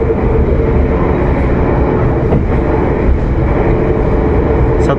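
Argo Merbabu passenger train running on the Jakarta to Semarang line, a steady loud rumble of wheels and carriage noise filling the whole stretch without a break.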